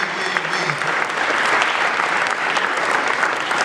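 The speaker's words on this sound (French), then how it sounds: "Applaudissons pour eux. Applaudissons pour nous." A church congregation applauds steadily and loudly, dense clapping filling the whole stretch without a break, a warm crowd sound with no distinct voices standing out.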